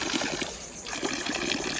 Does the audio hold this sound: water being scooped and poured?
yes